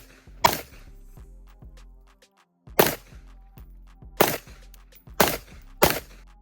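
A Griffin Armament MK2 12 rifle fires unsuppressed at an outdoor range, sending out five sharp, widely spaced shots with short gaps between them and faint clatter in the quieter stretches.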